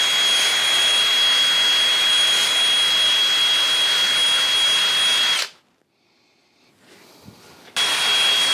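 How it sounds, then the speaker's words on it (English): A drill spinning a light wire wheel scrubs surface rust off metal, a loud steady whirring grind for five seconds that cuts out, leaves a short lull, then starts again. "just light wheel on a drill. It's bringing off the surface rust"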